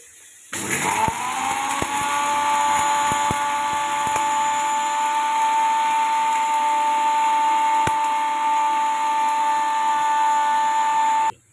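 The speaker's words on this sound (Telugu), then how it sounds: "అది వేగిపోయేలకి మిక్సీ పౌడర్ పట్టించుకున్నాను." A mixer grinder grinding spices into garam masala powder whirs with a loud, high-pitched motor whine, running steadily for about ten seconds before cutting off.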